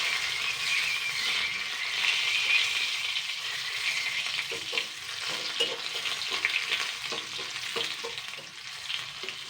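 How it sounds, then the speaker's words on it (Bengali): Crushed garlic and green chillies fry in hot oil with a bright, dense sizzle, joined midway by a run of soft rattling stirs, close up and without any voice. "রসুনটা লাল লাল করে ভেজে নিয়েছি।"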